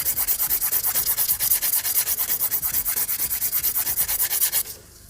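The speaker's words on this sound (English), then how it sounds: "You can also go to the 240 grit side of the file if you just want something a little bit more gentle" A nail file strokes back and forth across acrylic nails in fast, even rasping passes, close and crisp, with the regular rhythm continuing until it stops just before the end.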